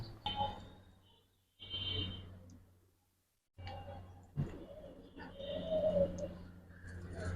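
Giribaz racing pigeons in a loft give low, soft cooing in uneven bursts with quiet gaps between them. A faint voice and a few handling noises sit underneath.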